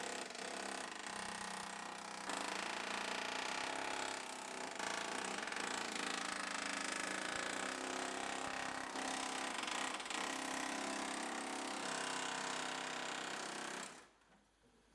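A harsh, rattling power tool grinds continuously and loudly, cutting car body metal, for a long stretch before shutting off abruptly at the end.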